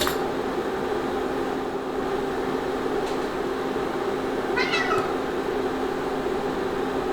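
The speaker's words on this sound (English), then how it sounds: "The cats. They smell something good." Two cats meow faintly a few times in a kitchen where beef stroganoff with mushrooms is being cooked, short calls over a steady hum of appliance noise.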